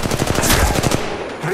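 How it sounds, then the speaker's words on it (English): Rapid automatic gunfire in the mobile game Apex Legends Mobile, a loud sustained burst of close shots that stops abruptly, with faint game sounds around it. "Opening fire."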